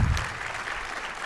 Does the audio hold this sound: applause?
yes